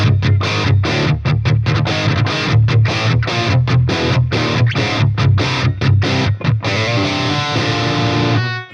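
Electric guitar played through a Blackstar digital combo amp on its indie crunch channel, with tight, punchy chopped strums in a rhythmic pattern giving way to a sustained ringing chord, loud and upfront with no talking.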